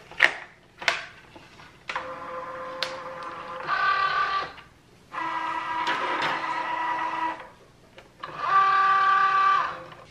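A Cricut cutting machine runs at close range in a quiet room. Whirring motor passes stop and start several times, broken by short mechanical clicks and thumps.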